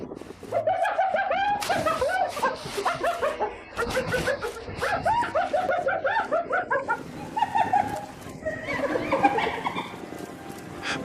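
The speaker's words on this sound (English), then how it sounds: "You can hear a hyena." Hyenas whoop and cackle in the wild, giving a loud, close run of rising calls and giggling yelps in bursts with short pauses between them.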